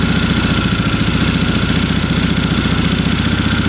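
A 1972 Triumph Bonneville T120 with Mikuni carburettors runs after a kick start, its engine thumping in a fast, steady, loud rhythm close by.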